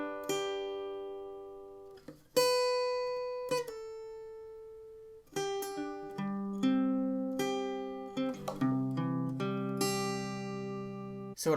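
An acoustic guitar plays the lead part of a song alone, with clear plucked single notes and ringing chord tones that decay between phrases, close and moderately quiet.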